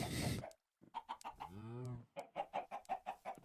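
Chicken sounds from the Minecraft video game: a burst of noise, then a run of short, sharp clucks in a quick, uneven rhythm broken by one longer squawk, close and clear.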